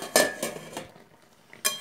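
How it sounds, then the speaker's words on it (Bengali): A spoon stirs sweet berry pickle cooked with jaggery in a pot, giving several sharp metallic clinks and scrapes against the pot in an uneven rhythm, close by, with no talking. "এরকম করে বারবার ক্রমাগত নাড়তে থাকি"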